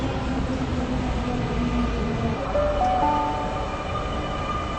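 A train rumbles steadily through Helensvale railway station, a loud, sustained mechanical roar with rising and shifting whine tones as it moves past the platform.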